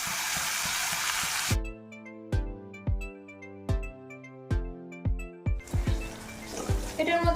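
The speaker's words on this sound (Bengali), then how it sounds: "সাদা তেলের মধ্যে একটা বড় পেঁয়াজ কুচি করে নিয়েছি, আর কাঁচা লঙ্কা, আদা কুচি সব দিয়ে দিয়েছি। একটু ভাজা ভাজা হোক।" Chopped onion, green chili and ginger crackle in white oil, a bright sizzle at the start and again at the end, broken in the middle by a run of clear, plucked tonal notes.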